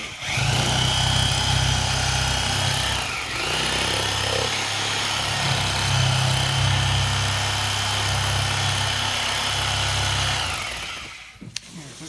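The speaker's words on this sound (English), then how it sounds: "You got the sawzall" Reciprocating saw cutting through a pig carcass at a farm butchering, a loud steady buzzing drone running nearly continuously for about eleven seconds with a short dip partway through, then stopping.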